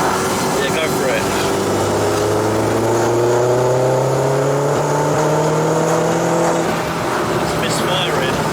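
A VW Polo 6N2 with a tuned 1.8T 20V turbo engine revs and misfires, its note climbing in a loud, rough, sustained pull, with faint voices nearby.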